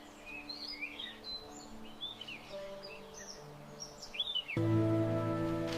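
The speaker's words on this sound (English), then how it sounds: "distant faint bird call" Faint, distant bird calls and chirps scattered through a quiet forest ambience, with a soft tonal hum rising near the end.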